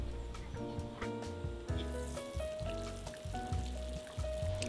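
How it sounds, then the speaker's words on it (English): Lotus root and pork ribs soup simmers over low heat in a lidded pot, giving a soft, continuous bubbling and sizzling patter under steady background music. "Cover the pot with a lid and cook on low heat for 2 hours."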